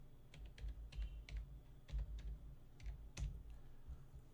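Typing on a computer keyboard to enter an Aadhaar number for digital signing: quick bursts of crisp, close keystrokes with short pauses between groups, quiet and alone.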